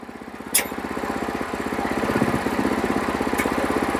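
A Challenger 2 power weeder's small engine runs at a steady, rapid pulse close by, with a sharp click near the start, its chugging slowly growing a little louder.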